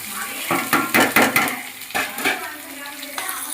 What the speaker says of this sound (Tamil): இப்போ நம்ம பச்சை மிளகா வெங்காயம் இஞ்சி கருவேப்பிலை எல்லாம் ஒன்றாவே போட்டு வதக்கிடலாம்